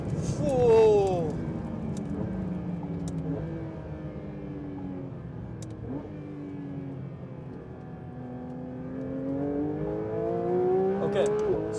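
A Porsche 911 GT3 RS engine revs hard while driven, its tone climbing steadily toward a high-rpm wail, easing, then rising again, loud and close from inside the car.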